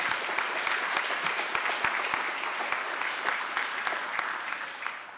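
A modest audience claps at a Boston teach-in, a steady round of applause with some distinct sharp individual claps standing out, fairly soft and tapering slightly toward the end.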